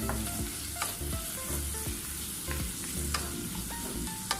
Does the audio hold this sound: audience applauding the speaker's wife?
no